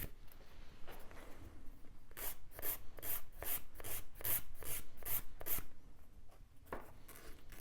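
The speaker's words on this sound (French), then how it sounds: "donner un petit coup de lime pour le rendre bien droit." A nail file rasps across a gel nail in a run of quick, close back-and-forth strokes, about a dozen rhythmic scrapes in the middle with a few slower passes before and after, no talking.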